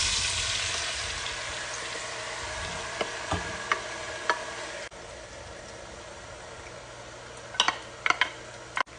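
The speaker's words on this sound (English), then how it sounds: "When our oil is hot, we're now going to add our potatoes and our onions." Potatoes and onions fry in hot oil and butter in a pan, a steady soft sizzle running throughout with scattered sharp ticks and pops, fading slightly partway and then picking up with a few louder crackles near the end.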